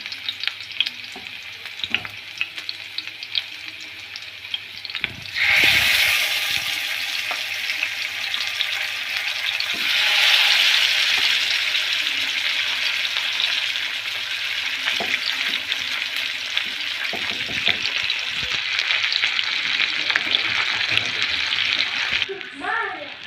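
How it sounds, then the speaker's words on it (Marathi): Garlic hits a hot pan for a Bangda (mackerel) fish fry and sizzles loudly at close range, a steady hissing fry with occasional stirring that runs from about five seconds to the end. "आता आपला तवा गरम झालेला आहे। आता बघूया त्यात लसूण टाकूया आपण।"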